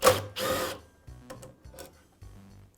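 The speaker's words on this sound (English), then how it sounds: "I'll remove the screw" Removing the screw from the dust duct of a DeWALT miter saw: two brief, loud bursts of a power driver, then a few quieter mechanical clicks and rattles, close up with no talking.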